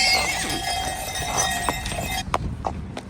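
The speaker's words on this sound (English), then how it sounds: "Then there's some big horses coming along." Hooves clip-clop on a hard surface as big horses pass by at a large horse fair in Germany, with irregular footfalls over a busy outdoor background of voices and noise.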